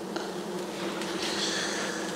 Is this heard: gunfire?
no